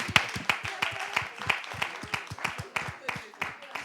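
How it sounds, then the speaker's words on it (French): Steady, rhythmic clapping from an audience, crisp beats about three per second in unison, with a voice speaking over it. "Applaudissez pour votre échec"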